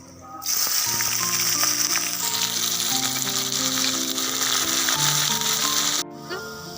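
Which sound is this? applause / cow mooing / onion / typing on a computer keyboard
onion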